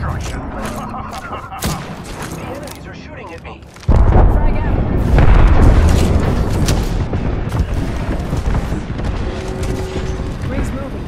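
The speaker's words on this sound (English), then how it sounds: "Frag out." A frag grenade blast in Apex Legends: a sudden heavy boom that rolls into a dense rumble of explosions and gunfire, loud and close, with in-game voice lines around it.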